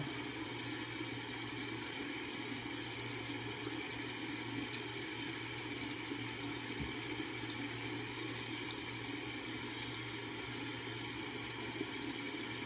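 Tap water runs steadily into a bathroom sink, a continuous close hiss and splash with no break and no voices.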